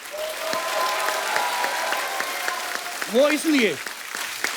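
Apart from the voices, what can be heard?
audience applause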